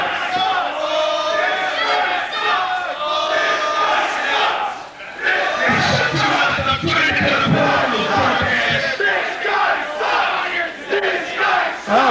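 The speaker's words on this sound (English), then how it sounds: "crowd showing their approval of sorts there at Priest" Wrestling crowd at an ACW-NWA Wisconsin event reacting loudly to Eric Priest, a dense, sustained roar of shouts and jeers with a brief dip near the middle before surging again, voices blended throughout.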